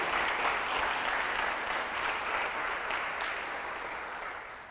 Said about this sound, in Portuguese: Dá um aplauso a ele aí